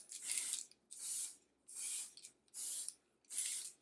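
Five short bursts of hissing spray foundation in a steady rhythm onto a face, each about half a second long with brief silences between, close and fairly soft.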